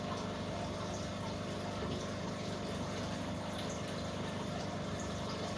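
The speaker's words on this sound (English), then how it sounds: "I want to make the sump flow a little bit quieter as well, dampen that flow" A steady aquarium sump pump hums beneath continuous rushing, gurgling water flow, constant and fairly quiet throughout.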